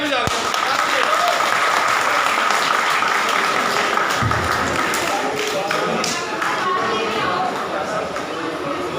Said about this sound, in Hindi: शाबाश बच्चों के लिए तालियां बजा दो।